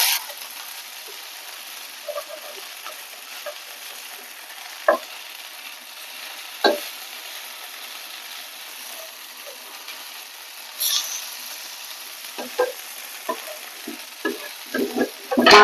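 Cauliflower snack frying in a covered pan, a faint steady sizzle with scattered clicks and small knocks that grow busier toward the end.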